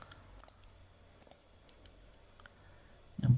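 A computer mouse clicks faintly during screen work on a music player, a few sparse soft clicks spread over several seconds against quiet room noise, ending in a brief louder thump.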